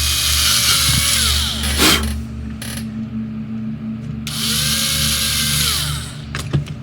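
Cordless power drill whirring in bursts while a 1979 AMT Star Trek U.S.S. Enterprise refit model kit is closed up, with several separate runs and short pauses between them, fairly loud and close.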